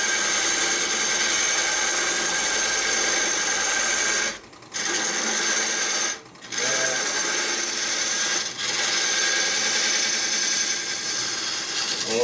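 A wood lathe turns a maple burl bowl, giving a steady close whirring, scraping cut that drops out in two brief pauses and a shorter dip before running on.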